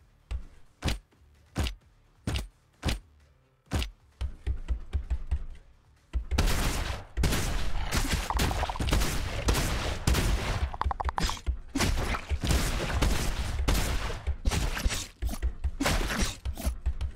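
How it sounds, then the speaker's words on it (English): Heavy shotgun in the action game Dreadhunter firing: a handful of spaced sharp blasts at first, then a dense run of rapid loud shots and impacts, close and punchy. "Oh, we have a new gun, a heavy shotgun."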